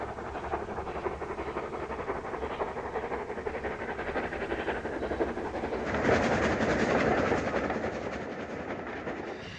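Aberdeen to Glasgow express headed by Class A3 Pacific steam locomotive 60100 Spearmint, heard as a continuous rolling rumble with wheel clatter, swelling louder as the train draws near partway through.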